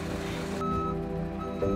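Reversing beeps from a big truck used in relocating elephants, a steady series of tonal beeps over a constant engine rumble, fairly loud and close, with no speech.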